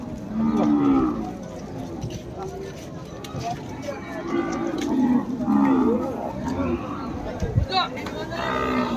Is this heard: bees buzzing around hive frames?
no